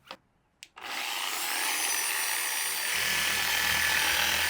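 Polishing compound is rubbed onto a WRX hood scoop with steady, close, scratchy friction after a few short initial scuffs, with a low rumble joining partway through.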